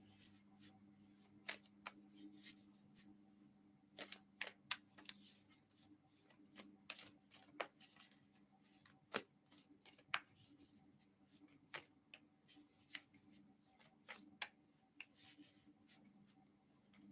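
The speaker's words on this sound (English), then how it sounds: "Just shuffling here." A deck of tarot cards being shuffled by hand, giving soft, scattered riffling bursts and light taps at irregular intervals, quiet and close with no talking.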